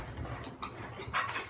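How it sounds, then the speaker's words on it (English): Rapid, breathy dog panting close by, steady rhythmic huffs with a couple of louder bursts toward the end. "that's my dog barking"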